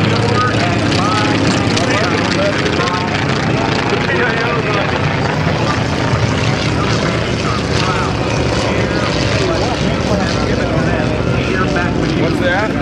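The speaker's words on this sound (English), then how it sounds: "Very simple airplane. A design that goes back to the 1930s." A simple propeller trainer airplane of 1930s design flies at a Blue Angels homecoming airshow, its engine drone loud and steady throughout, with a faint voice barely showing under the noise.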